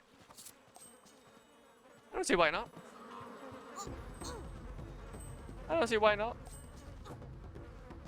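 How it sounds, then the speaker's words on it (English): Insects buzzing in Mini Ninjas, a video game, near a honeycomb: two short wavering buzzes a few seconds apart over low background game sound, with someone talking in between. "I don't think the bees will mind."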